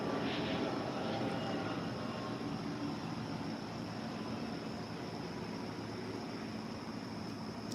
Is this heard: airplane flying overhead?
yes